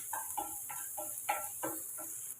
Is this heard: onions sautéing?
yes